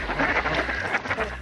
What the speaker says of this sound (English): the Mallard.